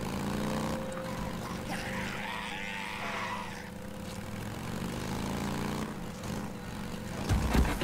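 A helicopter flying in Days Gone, a steady engine and rotor drone held throughout at moderate loudness, with a few louder bumps near the end.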